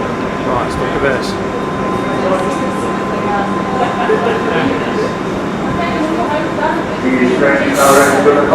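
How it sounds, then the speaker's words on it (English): A train sits at a London station platform with a steady rumbling hum and a thin tonal whine, the noise swelling slightly near the end. "These trains are ready to depart."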